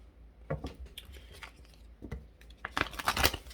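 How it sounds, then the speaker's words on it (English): Tarot cards being shuffled up close, a few soft papery riffles and slaps in separate bursts that grow busier and louder toward the end, with no voices. "Let me shuffle this a couple more times before we move forward"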